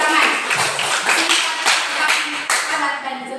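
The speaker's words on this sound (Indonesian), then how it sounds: "Oke, tepuk tangan." Steady applause from a class of students, dense overlapping claps filling the whole stretch with some voices mixed in.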